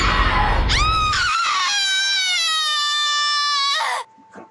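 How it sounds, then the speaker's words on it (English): A loud, sustained scream with a wavering pitch rings out in the horror video game The Letter, following a burst of noisy rumble, then breaks off abruptly into quiet. "Okay, the screaming is something else."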